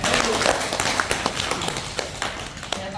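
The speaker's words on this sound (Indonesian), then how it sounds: "kita kasih tepuk tangan melingkar dulu juga" A group of people stands in a circle during a physical education teaching practice session and gives a round of applause, a patter of claps with a few sharp louder ones. Voices carry over it.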